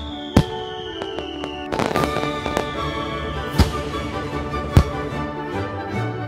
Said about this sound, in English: I think those are fireworks.